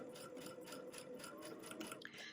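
Sewing machine stitching a quarter-inch seam on a quilt block, a steady close rhythmic whir with fast repeating needle beats running throughout, quiet and without talk.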